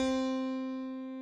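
A Korg M1 piano sample holds a single sustained note that fades slowly and evenly, its tail looping instead of dying away naturally, heard alone and fairly quiet.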